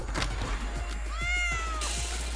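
A cat meows once, drawn out and clear, over a steady low hum and background noise in a busy indoor competition setting.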